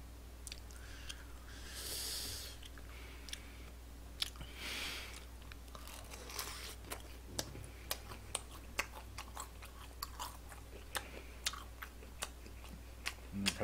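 Faint, close chewing and crunching of Korean-Chinese sweet and sour pork (tangsuyuk), with irregular soft bites and crunches over a quiet room hum.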